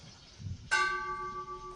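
A single ceremonial bell is struck once at a friendship-day event, a clear ringing tone that sustains and slowly decays after a faint thump.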